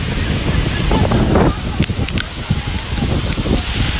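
Rushing water from a pretty waterfall on a hike, a loud continuous broadband roar close by with gusty wind noise and a few faint sharp knocks over it.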